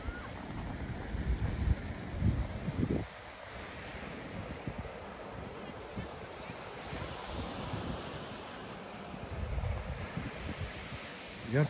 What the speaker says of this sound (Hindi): पानी की जो साउंड आ रही है ना, पता नहीं यहाँ पर आपको आ रही कि नहीं आ रही, जो पानी जब लहरें बिल्कुल अपने आखिरी एंड पे पहुँच रही है